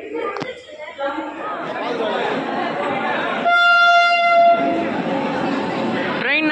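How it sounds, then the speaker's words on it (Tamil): The Ganga Kaveri Express passenger train, Chhapra to Chennai Central, rumbles into a station amid crowd chatter, with a loud, sustained horn blast partway through. "நம்ம ட்ரெயின் வந்துட்டுருக்கு"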